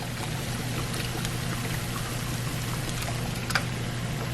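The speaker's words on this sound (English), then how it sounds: "I'm gonna add, let's see, probably all of the beef broth." Beef broth pours steadily into a cooking pot with taco pasta ingredients, a continuous close splashing stream that runs unbroken for several seconds with no talking.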